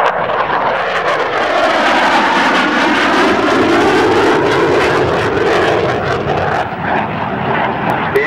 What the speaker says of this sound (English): with a final photo pass for you here today, Lieutenant Adrian Catfish Jope